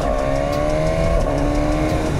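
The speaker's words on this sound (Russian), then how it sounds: "И работа квикшифтера." A BMW S1000R motorcycle engine roars loud and close at high revs, with quickshifter upshifts briefly interrupting the strained, continuous drone of a ride.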